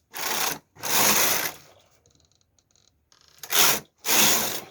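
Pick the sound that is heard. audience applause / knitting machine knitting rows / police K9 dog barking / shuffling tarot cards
knitting machine knitting rows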